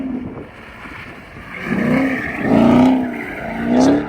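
A Dodge Hellcat Jailbreak revs in surging bursts while doing a burnout on brand-new tires, the engine rising and falling in loud waves with a rushing hiss of spinning rubber, heard outdoors at moderate distance.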